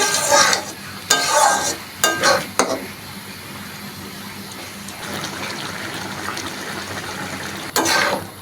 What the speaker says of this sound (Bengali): এরপরে আমি দিয়ে দেব ভেজে রাখা পটল পটলটা একটু ফুটাতে হবে